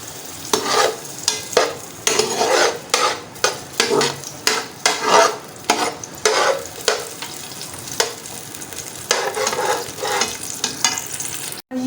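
Onions sizzle in hot ghee in a pan as the base for beef paya, the trotter curry. A spoon scrapes and stirs in steady strokes against the metal over constant crackling, close by with no talk.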